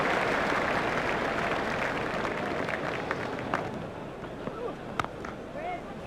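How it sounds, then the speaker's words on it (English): Cricket crowd at an India vs Australia one-day match in Bombay applauding Sachin Tendulkar's half-century: broad, steady clapping and cheering that fills the stadium throughout, with occasional louder bursts rising above the wash of noise. "Tendulkar raises his bat to the crowd to acknowledge the applause."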